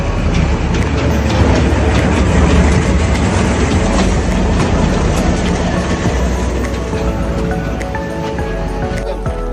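A toy train carries riders around a park on a Sunday outing, rumbling and rattling steadily up close with clickety-clack wheel noise and a few sharp metallic clicks, with no pause in the running sound.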